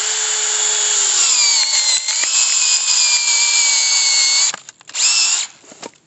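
Drill driving a screw-type log-splitter bit into firewood, a loud continuous high motor whine that sags in pitch under load, cuts out after about four seconds, then gives one short burst before stopping.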